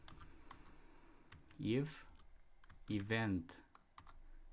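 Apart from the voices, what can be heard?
typing on a computer keyboard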